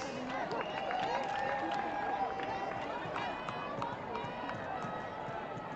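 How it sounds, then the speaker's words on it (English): A crowd at the Comrades Marathon prize giving claps steadily for the women's champions, a sustained wash of applause with cheers and voices mixed in, holding at an even level throughout. "a warm round of champion applause"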